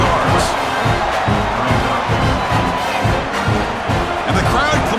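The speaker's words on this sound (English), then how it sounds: "the crowd coming to life here, trying to help this defense down in the red zone" Football stadium crowd cheering at a college game between Alabama and Florida State, a dense roar of many voices rising and swelling together while the defense is in the red zone.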